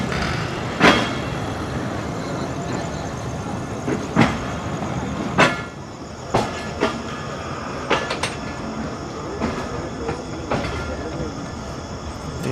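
A Pakistan Railways train rolls into a station platform with a steady heavy rumble, punctuated by sharp rhythmic clacks of wheels over rail joints at uneven intervals, loud and close.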